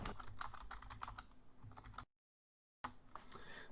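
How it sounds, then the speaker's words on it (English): Rapid typing on a computer keyboard during a live game session, with dense clicking keystrokes in bursts, broken by a brief silent gap before the clatter resumes. "I was typing, sorry."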